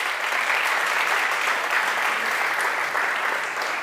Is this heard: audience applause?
yes